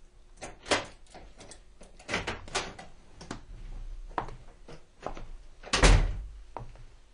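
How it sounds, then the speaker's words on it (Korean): A key turns in an apartment door lock and the door is opened, giving a series of close clicks, rattles and thunks with a louder knock near the end, amid quiet room sound and no talk. "스톤 부부가 맡긴 열쇠로 문을 열고 스톤네 아파트로 들어갔다"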